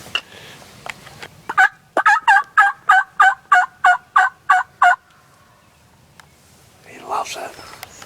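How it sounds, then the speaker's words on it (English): Two wild turkey gobblers sound off about 300 yards away, a regular series of about ten sharp gobble bursts in quick succession, faint with distance, with soft whispering before and after. "We got 2 gobblers out there, about 300 yards going off."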